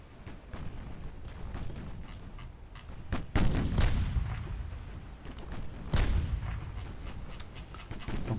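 Long-range naval gunfire in Ultimate Admiral Dreadnoughts, with booming salvos at irregular intervals followed by rolling rumbles and a steady run of sharper distant reports.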